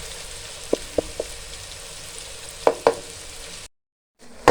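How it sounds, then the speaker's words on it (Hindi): Chopped medium-size onions fry in a pan for a chicken handi, a steady soft sizzle with a few brief stirring clicks, then a sudden cut to silence before the sizzle resumes. "इसको हम फ्राई करेंगे ब्राउन होने तक।"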